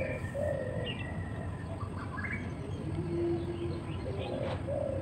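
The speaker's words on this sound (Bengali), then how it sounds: "দেখুন পাখিগুলো কি সুন্দর আওয়াজ করছে" Birds call and coo outdoors at half past six in the morning, including dove-like coos and scattered chirps over steady background noise, moderately loud and continuous.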